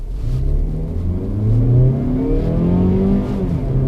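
Mazda CX-30 pulling away hard in a race from a traffic light, engine rising in pitch as it revs up through the gears, loud and close from inside the car with no talking.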